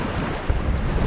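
Choppy sea from wind against tide while sailing solo between the Isle of Man, Ireland and Wales, heard as a steady close rush of surf and wind buffeting the microphone, with a brief thump of water midway.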